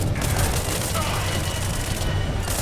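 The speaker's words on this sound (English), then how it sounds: "It looks like grenades are being tossed at me." Grenade explosions in the space exploration RPG Spacebourne 2 make a dense, continuous rumble of booms and gunfire-like bursts, loud and sustained throughout.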